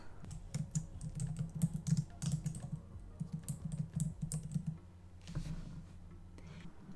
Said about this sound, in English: I'm going to click on the T and start typing on the canvas.